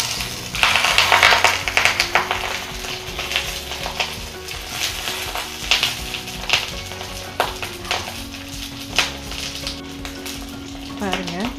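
Paneer pollichathu sizzling in a clay pan and being flipped, a steady loud frying crackle with scraping and stirring knocks throughout, close up.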